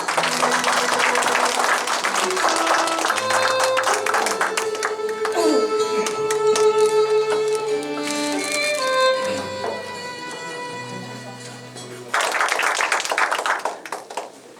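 At a poetry recital event, an audience claps at the opening and again near the end, with quieter stretches between that carry music-like tones and other sounds.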